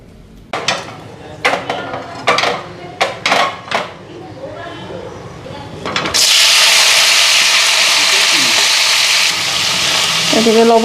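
Potatoes and tough onion stalks hit a hot pan and break into a loud, steady sizzle that carries on without a break, after a voice talks in short bursts at first.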